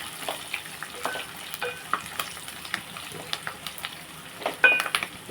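Tempering spices with coriander sizzle and fry in a pan for masala upma, close and fairly quiet, with irregular scraping clicks of a spoon stirring throughout.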